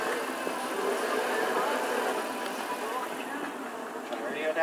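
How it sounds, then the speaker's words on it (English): Engine compartment blower fan running aboard a 2006 Sea Ray 240 Sundeck on the water, a steady whirring hum that holds level throughout with a faint voice in the background. "Hear the fan."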